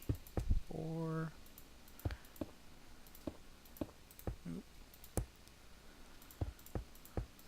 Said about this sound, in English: I'm sorry if you guys can hear the clicking as well. I have kind of an old school mouse.